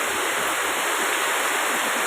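Very heavy rain pours down as a dense, loud, continuous broadband hiss, close and steady throughout with no voices.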